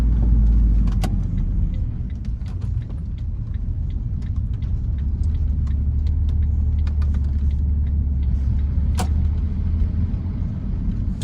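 A car rolls slowly at low speed, about 10 to 12 mph, making a right turn onto a residential street in Shreveport, Louisiana, giving a steady low engine and tire rumble with a few faint ticks and clicks.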